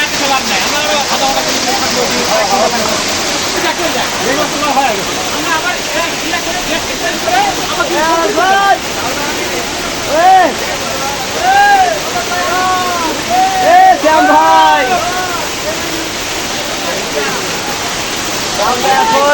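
The Jaflong waterfall in Sylhet spills down a hillside in a loud, constant rushing roar, close by, while people talk over the water.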